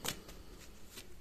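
Tarot cards are shuffled in a brief, faint run of soft riffling flutters, close by and quiet, with no voice.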